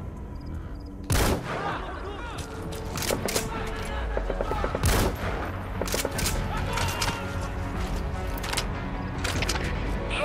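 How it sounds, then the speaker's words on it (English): Sniper rifle fire in Metal Gear Solid V: The Phantom Pain, a few loud, sharp shots spaced several seconds apart over continuous game ambience and scattered background sounds. "Let's mess around with the sniper rifle a little bit. It's loud."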